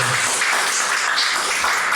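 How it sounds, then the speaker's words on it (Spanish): Loud, dense applause fills a church service, a steady wash of many hands clapping together without letup throughout. "Fuertes aplausos."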